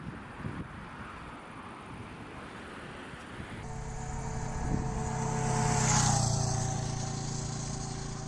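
A motorcycle travels along a mountain road by the Katun river toward the Mongolian border, with wind buffeting at first, then a steady engine drone that swells and fades as the ride goes on.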